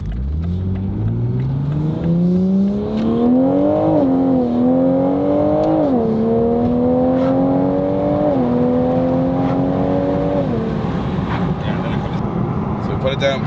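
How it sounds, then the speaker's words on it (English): A Nissan Silvia S15 with a new exhaust and downpipe revving under load on the road, the engine note rising in several stepped pulls with brief dips between gear changes, loud and close throughout. "just to make sure the exhaust is working"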